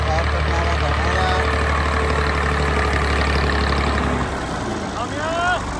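A tractor engine idles and runs at a steady, close, loud drone out on a farm, with brief voices and squeaky tones breaking through near the end.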